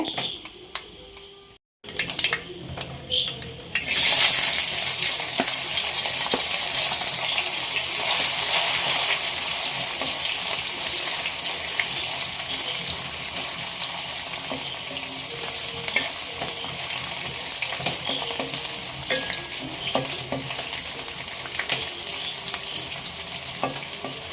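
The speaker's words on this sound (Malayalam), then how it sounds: "നമുക്ക് കടുക് അങ്ങോട്ട് ഇട്ട് കൊടുക്കാം കടുക് ഇട്ട് കൊടുത്തു കടുക് നല്ലപോലെ പൊട്ടട്ടെ" Mustard seeds crackling and spluttering in hot oil in a pan for pork ularthiyathu, a dense continuous sizzle with scattered pops close by, after a short quiet start.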